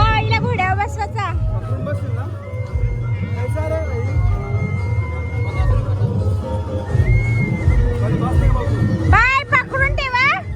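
A horse whinnies loudly at the Narali Purnima festival in Kalyan Koliwada, once near the start and again near the end, rising and falling over a dense crowd hubbub and the rumble of nearby traffic.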